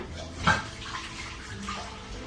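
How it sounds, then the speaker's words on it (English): Hands being washed under a running tap in a soap-making shop, a steady wash of water with a brief splashy burst, close and continuous. "I'm going to wash my hands."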